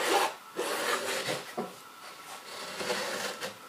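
A nail scratching lines into a wooden board while marking out a buckler, a series of close rasping strokes of varying length, with no talk.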